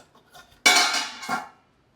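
Steel cookware clanks and rattles as it is handled in a shop, a sharp loud metallic clatter that rings on for about a second, then a smaller clink follows.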